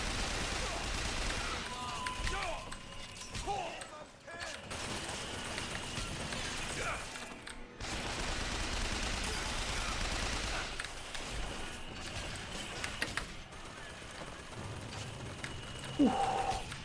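A turret firing a machine gun in Bioshock Infinite, heard as long stretches of rattling automatic fire with brief pauses, somewhat distant and mixed with game noise, while someone speaks occasionally.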